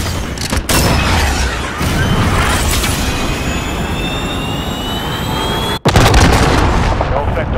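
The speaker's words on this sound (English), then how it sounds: "Missile away." A missile launch in a military video game, a loud roaring rush with a rising whine, then a sharp cut and a heavy blast near the end, continuous and close.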